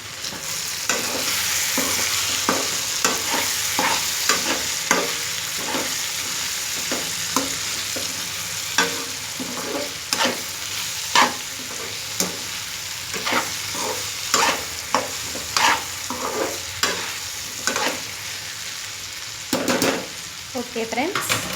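Okra and cucumber curry with garlic being stirred as it fries, a continuous sizzle broken by repeated scraping and clinking strokes of a spoon against the pan.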